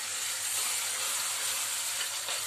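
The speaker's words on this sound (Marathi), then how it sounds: "फुलग्यासाठी जे वाटण आहे ते परतून घेऊयात." Green chili, garlic and coconut paste sauté in hot oil, giving a continuous, even hissing sizzle with faint stirring, steady and fairly quiet throughout.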